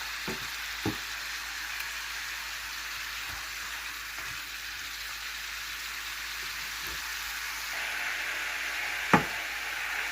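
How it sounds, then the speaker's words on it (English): Cabbage sizzles steadily in a hot pan over medium heat, a constant crackling hiss with occasional sharp pops and light utensil taps. "Okay, cabbage are frying up pretty good."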